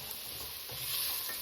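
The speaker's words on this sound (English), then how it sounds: "So we're going to get that stirred up in there like so." Beef stew ingredients are stirred in a pot, producing a soft, close, continuous sizzle and scraping swirl that stays fairly quiet and even, with no voices.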